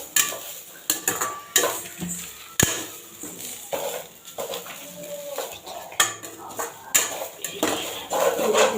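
Spoon scraping and knocking against a pan as a coconut candy mixture with sugar is stirred over low heat, with irregular clattering strokes close up and no talking.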